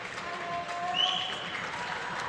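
Spectators at a junior men's air pistol final react with a sustained wash of applause and crowd noise, steady and moderately loud, while a voice talks faintly over it.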